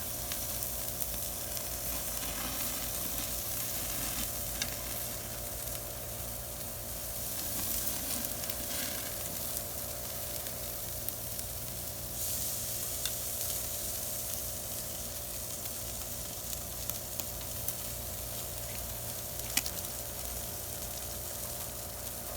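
Pre-cooked potatoes and cauliflower searing on a very hot grill, a continuous low sizzle with crackling spits running under a steady background hum, no voices.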